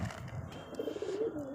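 Pigeons feeding on scattered grain give a brief low coo over soft pecking and shuffling sounds, close and fairly quiet.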